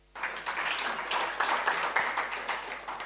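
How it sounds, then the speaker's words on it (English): An audience at a potato industry address breaks into applause after a speech, dense clapping starting abruptly and holding steady at moderate volume, heard from within the room. "Give her a round of applause."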